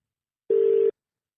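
On an outgoing telephone call, a single short ringback tone sounds: a clear, steady electronic beep lasting under half a second, followed by silence.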